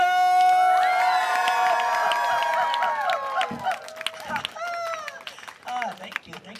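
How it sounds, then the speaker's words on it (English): A live storytelling audience cheers loudly, with a burst of high shouting voices that trails off into scattered calls and a few lingering cries. "We were greeted with great cheers by the Heavenly Committee of Welcome!"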